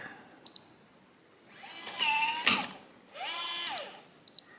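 Short beeps, then two whirring motor runs as a smart door lock's bolt drives to lock, with a sharp click between them and more beeps after.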